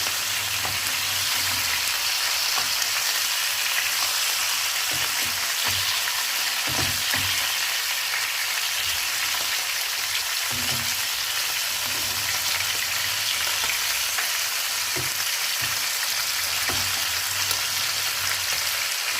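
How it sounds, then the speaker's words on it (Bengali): Chicken frying lightly in a pan, a constant close sizzle with occasional stirring clicks and scrapes running throughout, and no voices. "এটাকে আমি হালকা ফ্রাই করবো।"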